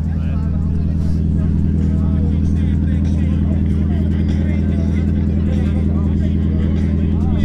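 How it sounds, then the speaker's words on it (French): Deep, steady V8 engine rumble from a lowered, stanced car, idling loud and close without a break, with faint voices and background chatter underneath. "elle fait un bruit sympa. Hein. Tu l'entends bien le V8."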